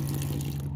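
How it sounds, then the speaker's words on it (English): An electric water pump sits on top of a 3-gallon drinking water jug, giving a steady close hum with running water throughout. "It's an electric water pump"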